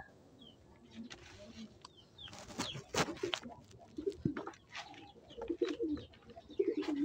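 Racing pigeons coo softly and repeatedly at moderate distance, with scattered bird chirps and faint rustling in the background.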